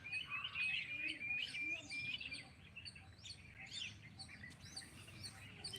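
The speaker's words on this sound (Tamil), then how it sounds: "குருவியின் சத்தம் இசையில் ஒலிக்கிறது." Sparrows chirp and tweet in quick, high bursts against a quiet outdoor background, fairly faint and scattered across the moment.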